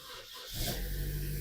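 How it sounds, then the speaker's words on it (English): A 2015 Vauxhall Astra engine starting, a brief starter whirr followed by the engine catching into a loud, steady close idle, heard alone. "start the car"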